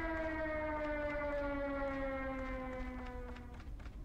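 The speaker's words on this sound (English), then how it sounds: "There's the sirens." A wailing siren in the battle royale video game Crossfire: Legends, a steady tonal drone slowly gliding downward in pitch and fading toward the end, heard alone without talk.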